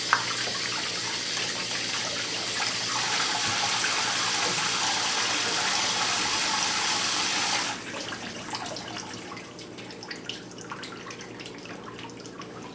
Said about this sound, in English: I'm going to rinse my hands off again.